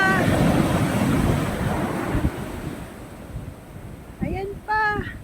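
Sea waves roll in and break on the shore with a loud, wind-buffeted rush that ebbs toward the end, when a person speaks briefly over the quieter surf.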